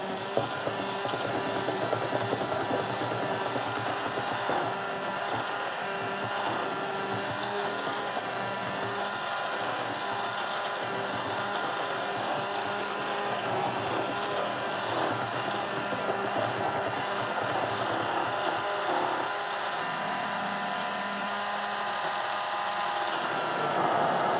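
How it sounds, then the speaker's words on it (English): A stand mixer running steadily as it whips cream for a coconut cream pie, a continuous motor whir and beater hum held at even loudness throughout, with no voices. "the stand mixer does a better job of incorporating it all together"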